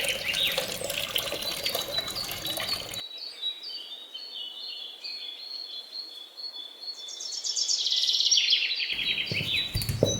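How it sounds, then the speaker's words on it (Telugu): Water poured from a tap into a vessel while preparing traditional castor oil, a steady splashing run at close range, broken by a quiet pause midway, with birds chirping in the background. "నీళ్ళు పోసుకోవాలి. బిన్నిండా"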